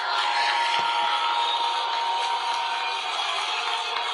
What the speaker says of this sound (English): Sounds like a lot of boos right away